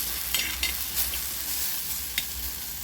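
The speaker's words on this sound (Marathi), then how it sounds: "भरताला छान खरपूस भाजून घेत आहे" Brinjal bharit roasting on a tawa gives a steady soft sizzle with a low hum underneath and a few brief scraping stirs, close by, with no talking.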